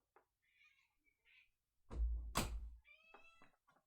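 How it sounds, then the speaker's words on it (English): A pet cat meows several times from just outside a room door, short high cries spread across the moment, with a heavy thump in the middle. "my cat wants to come in"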